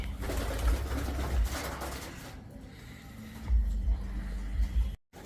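Pigeons cooing in a loft, a steady layered burble of several birds close by, swelling and easing over a few seconds with no talk.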